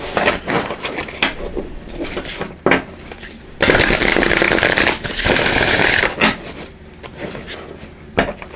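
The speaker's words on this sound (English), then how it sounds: "I'll give these a good shuffle." A deck of oracle cards shuffled by hand at close range, with uneven rustling, flicking and rubbing of card stock and a couple of longer riffling bursts in the middle.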